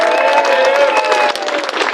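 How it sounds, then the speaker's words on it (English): A crowd at an outdoor anti-war rally in London applauds and cheers, a loud burst of clapping with scattered voices that thins out toward the end. "Everybody, a round of applause for Piers Corbyn."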